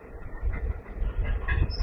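A Karur to Trichy DEMU passenger train rolls along the rails with a steady low rumble and rhythmic wheel clatter, heard from on board and fairly close.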